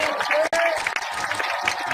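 Studio audience applause at a talk show recorded at the home of entertainer Tukul Arwana. The clapping is brief and fairly loud, with a short gap partway through, and voices from the crowd mix in.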